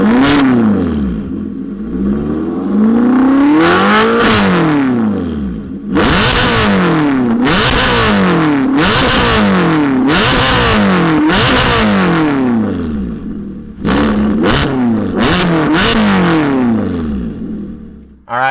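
A 2014 Ferrari California 30 engine fires up and revs repeatedly, loud close blips rising and falling in a rhythmic series of sharp surges with brief dips between them.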